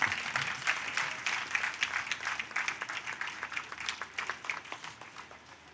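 Audience applause at a book-launch closing ceremony, a dense patter of many hands that fades slowly over several seconds, with no voices over it.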